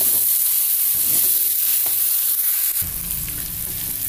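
Green chilies sauté in a pan for a sweet-spicy tempe dish, giving a steady close sizzle with occasional stirring scrapes and a faint low hum joining near the end.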